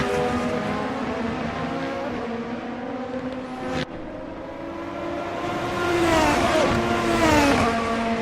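Race cars in a racing video game at the Okayama circuit hold a steady engine drone with rising and falling revs and gear changes, plus a brief sharp cut partway through, loud and continuous with no talk.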